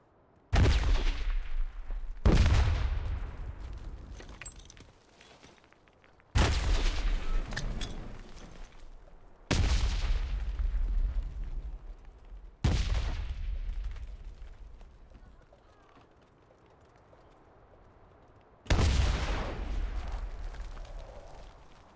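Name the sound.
Panzerschreck rocket and gunfire in a video game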